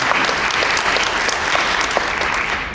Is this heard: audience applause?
yes